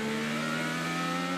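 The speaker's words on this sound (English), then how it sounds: "That's no good for the motor either when it over revs like that, because there's no control." An IndyCar race car's engine screams at high revs after an unintended downshift into second gear during the 2017 Watkins Glen Grand Prix, a steady, loud, close whine with no talk.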